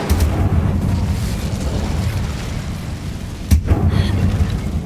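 An Incendio fire spell is cast in a Harry Potter video game. It makes a loud, rumbling fiery roar that holds steady throughout, with one sharp burst near the end.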